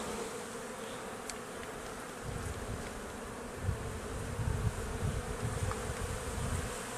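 Honeybees buzz steadily around an opened beehive as frames of honey are lifted out, a dense continuous hum that swells slightly louder midway and stays close and unbroken with no talking.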